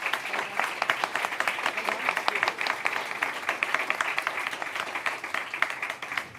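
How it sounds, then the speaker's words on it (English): An audience at a European health systems summit applauds a panel, steady clapping from a seated crowd lasting several seconds at moderate volume. "join me in a round of applause for our excellent panel."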